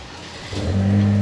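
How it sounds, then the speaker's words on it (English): Car engine starting by keyless remote start, a low engine rumble building at about half a second and settling into a steady idle. "So the vehicle will remote start."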